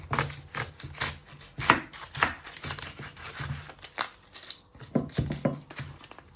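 A knife chops through seafood pasta ingredients on a cutting board in a quick run of sharp, close thuds, with a brief pause mid-way before another burst of cuts.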